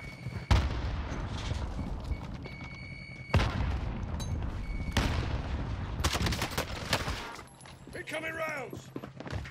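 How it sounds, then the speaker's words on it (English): Incoming artillery rounds explode in a Call of Duty match, with sharp heavy blasts and bursts of rapid gunfire. Two sudden loud impacts stand out, followed by sustained crackling fire and a brief electronic whine near the end. "Incoming rounds!"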